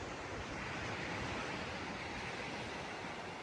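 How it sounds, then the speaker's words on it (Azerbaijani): Continuous broad roar of sea waves washing in at the seashore, steady and fairly soft, with no voices. "burada saatlarla qalıb bu səsi dinləyə bilərəm də. Dənizin səsi"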